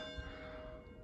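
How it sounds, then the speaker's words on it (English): Church bells ring at lunchtime, faint and far off, sounding as a steady resonant hum under low ambient background noise. "You can hear the bells going off"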